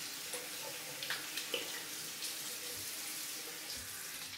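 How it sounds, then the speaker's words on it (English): Tap water runs steadily into a sink as a hand and the handle of a shaving brush are rinsed off during a wet shave, a close, continuous splashing flow with a few small spatters and no talking. "I'm just rinsing off my hand, rinsing off some of the brush handle since the lather is running down."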